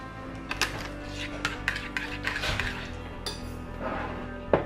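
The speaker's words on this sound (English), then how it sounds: "you're going to take your dry ingredients and mix them in with the wet" A spoon or whisk mixes dry ingredients into wet chocolate protein pizookie batter in a bowl, giving a series of close clinks and scrapes against the bowl in an irregular rhythm.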